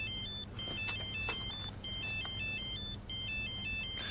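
A mobile phone ringtone trills in a repeating electronic pattern, three bursts with short gaps, moderately loud in a quiet room with no talk.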